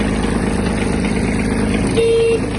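The small diesel engine of a Kubota GB-15 mini tractor cranks and runs with a steady close rumble, and a short horn-like tone sounds near the end.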